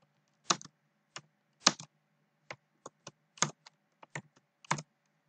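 Keys on a Hungarian-layout computer keyboard tapped in uneven, sparse clicks, close and clear against a quiet room with no talking.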